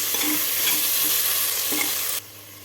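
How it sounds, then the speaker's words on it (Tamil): A tomato and salt mixture sizzles in a pot for arisi paruppu sadam while a spoon stirs it with a couple of scrapes, then the sizzle cuts off abruptly near the end; no talking. "இப்போ எல்லாத்தையும் நல்லா கலந்து விட்டுக்கலாம் ஒரு நிமிஷம் இது அப்படியே வதங்கட்டும்"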